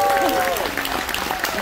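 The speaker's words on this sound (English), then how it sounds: "the crowd goes absolutely wild" An audience of about 900 applauds a live close-up magic trick. The clapping is dense and steady across the short moment, and a voice speaks over it.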